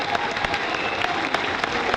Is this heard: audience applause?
yes